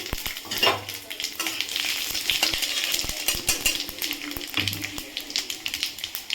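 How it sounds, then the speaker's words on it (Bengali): Panch phoron, bay leaf and dried chilli spit and crackle in hot oil, a close, busy sizzle with sharp popping ticks and a couple of brief stirring knocks. "এবারে আমি তেলে এই 5 ফোড়ন, তেজপাতা আর শুকনো লঙ্কা দিলাম।"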